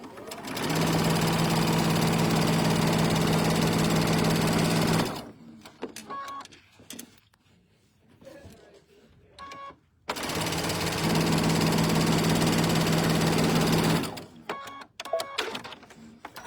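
A sewing machine stitches a quarter-inch quilt seam in two long, steady whirring runs, loud and close, with quiet handling clicks and pauses between them.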